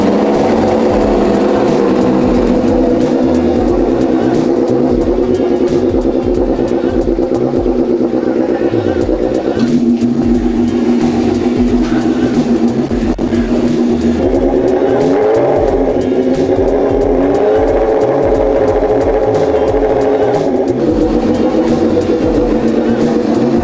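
A Suzuki GSX-R 750 engine idles loud and close during warm-up, then revs up to about 2500–3000 rpm and down in several swelling rises and falls before settling again, with no talk over it.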